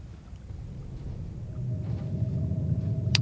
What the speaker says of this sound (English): sounds very windy outside